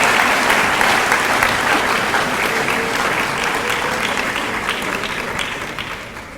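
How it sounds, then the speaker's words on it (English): A graduating class at a 2015 graduation ceremony gives a huge round of applause, a dense, loud, sustained roar of many hands clapping that slowly tapers off. "if you would give the audience a huge round of applause"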